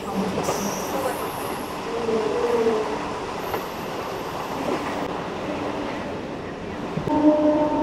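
A local train pulls into Dankuni junction station on the Barddhaman–Howrah chord line, with steady rumbling wheels and rail noise throughout, a faint squeal of wheels midway and a louder clunk near the end.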